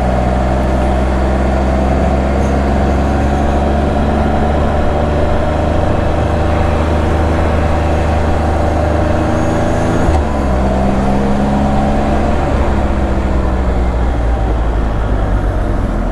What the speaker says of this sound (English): I thought I'd just take it for a test ride before I got into all that